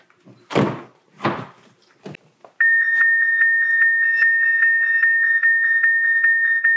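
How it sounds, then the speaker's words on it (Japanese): Car security alarm on a Toyota Land Cruiser Prado set off as the door is opened: a few door clunks and handling thumps, then a loud, rapidly pulsing electronic beeping tone that continues steadily. "はい、このように警報が鳴りまして、リモコンにもこのようにドア解とアンサーバックが返ってきます。"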